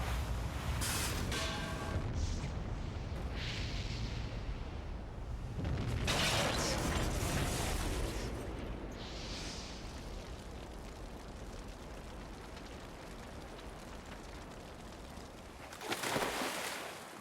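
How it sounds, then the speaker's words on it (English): A big explosion in the video game Parasite Eve, a sustained rumbling roar with bursts of crackling debris that swell and fade over many seconds, loud and continuous with no talking. "It's just an explosion."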